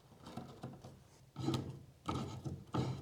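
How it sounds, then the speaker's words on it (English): A 13mm socket tightens a serrated flange nut on a solar inverter, giving a few separate bursts of ratcheting and rubbing metal-on-wood clicks with short pauses between, close and fairly quiet. "you will need a 13mm socket to tighten that down"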